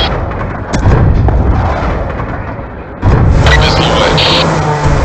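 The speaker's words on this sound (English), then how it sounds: "Missile away." Missile strikes in Call of Duty Black Ops 2 land as heavy, loud explosions, a rumbling blast followed by a second big impact partway through, with radio chatter running under the booms.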